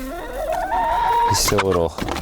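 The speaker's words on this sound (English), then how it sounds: "We just got a new rooster in here." A newly arrived farm rooster crows loudly and close by, one long drawn-out call followed by a short broken clucking tail.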